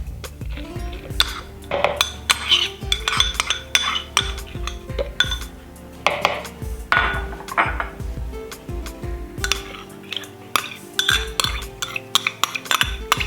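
Moong dal being crushed with yogurt in a bowl, with utensil scraping and clinking against the dish in irregular bursts throughout, and no talking.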